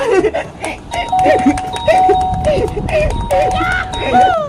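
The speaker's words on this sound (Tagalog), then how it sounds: "pwede na akong magpindot sa doorbell nila" An electronic doorbell chime rings several times in quick succession while voices talk over it.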